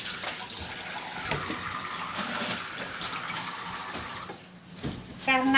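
A tap runs steadily into a sink for rinsing and hand washing at a dental clinic, a continuous close splashing hiss that dips briefly near the end before a short squeak and renewed water.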